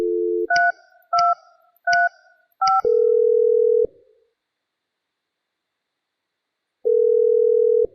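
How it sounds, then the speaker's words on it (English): Mitel 5340 IP phone keypad sending four short, evenly spaced DTMF beeps as an extension is dialed, after a brief dial tone and followed by steady call-progress tones, clean and alone with no voices. "Dial Maria's extension 3235."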